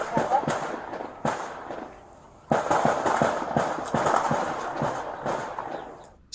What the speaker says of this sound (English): more gunshots echo from the opposite end of the alley